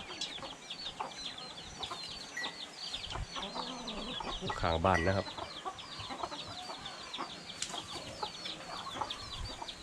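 Backyard chickens in a small Thai home flock of about twenty birds, kept alongside ducks, cluck and chatter steadily at close range, with a louder burst of calls midway and someone speaking briefly.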